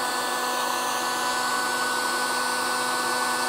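An electric space heater running on high gives a loud, steady fan-and-element roar with a constant hum and no break or change across the whole stretch, with no voices heard.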